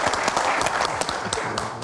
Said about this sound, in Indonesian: tapi bisa kita kasih tepuk tangan dulu ya